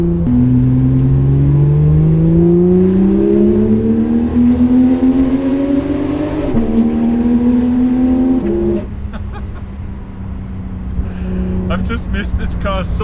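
A Porsche GT3 RS engine drones loudly and climbs in pitch through the gears on the Susten Pass mountain road, easing off near the end, with a voice talking over it.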